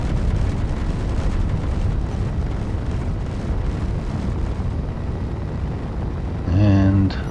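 Interior turret in the Space Engineers game shooting down incoming missiles, a steady rumbling barrage of booms and blasts throughout, with a louder tonal burst near the end.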